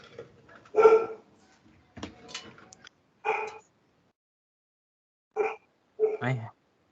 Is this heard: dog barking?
yes